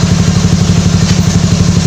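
A motorcycle engine runs close and loud after a new battery is fitted, settling into a steady rhythmic idle with even low chugging pulses and a faint mechanical clatter.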